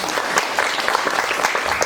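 A workshop audience breaks into brief, lively applause, a crowded patter of many hands clapping at close range that stays fairly even throughout.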